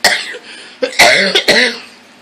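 Several harsh coughs come in quick succession from someone nearby, loud and raspy, with short breaths between them.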